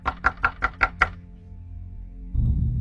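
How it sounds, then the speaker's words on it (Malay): Knocking on a locked toilet door as a sound effect: six sharp, evenly spaced raps, fairly close, then quiet before a low rumbling noise rises near the end. "Ketuk-ketuk lagi."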